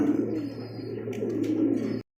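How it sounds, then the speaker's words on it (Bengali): Soft, low cooing from a pair of Danish pigeons, steady and close for about two seconds before it cuts off. "এক জোড়া কবুতর ড্যানিশ হাই কোয়ালিটি ড্যানিশ"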